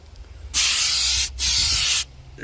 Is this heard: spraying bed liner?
yes